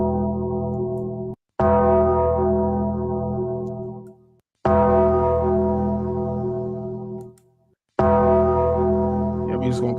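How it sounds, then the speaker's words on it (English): A gong sound effect from a soundboard rings out three times, each loud resonant strike decaying with a sustained tone, with short silent gaps between strikes. "we're just gonna call that the Philly Gong. That's gonna be, I'm gonna rename that on the soundboard"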